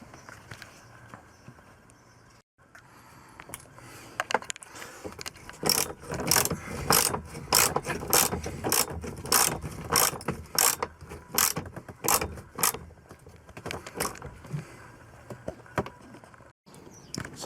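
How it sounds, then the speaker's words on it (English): A ratchet wrench undoes the single seat belt anchor bolt inside a Lotus Excel during interior stripping, giving a run of quick, evenly spaced metallic clicks at close range, preceded by quieter fiddling and followed by a few slower clicks. "what I'm going to do is just completely unbolt the seat belt itself, which is one bolt attached there"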